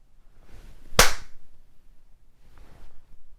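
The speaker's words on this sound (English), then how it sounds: "Clap one time and then stop and listen." A single sharp hand clap in a room at home or an office, loud and abrupt, with a brief echo trailing off into quiet room tone.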